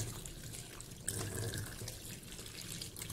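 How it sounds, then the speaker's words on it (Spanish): Tap water runs steadily as white roselle flowers are rinsed under it in a sink, a faint, continuous splashing hiss with no talk. "voy a hacer un pequeño enjuague, nada más para quitar la espumita, los restos de jabón."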